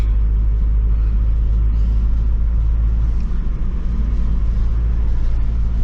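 A car drives along a road, heard from inside as a steady, loud low rumble of engine and tyres, with no voices.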